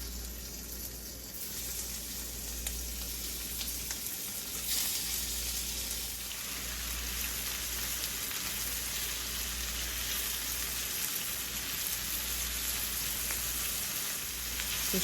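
Shrimp sizzles steadily in garlic butter in a pan, a continuous dense crackle with a low hum underneath, close and even throughout with no voices.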